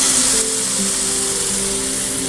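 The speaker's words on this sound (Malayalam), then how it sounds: "നമുക്കിതിലേക്ക് നല്ല തിളച്ച ചൂടുവെള്ളം ചേർത്ത് കൊടുക്കണം" Boiling hot water poured into sizzling chicken tikka masala in a pan, a loud continuous hiss and crackle that briefly surges at the start and then settles into an even bubbling sizzle with no talk.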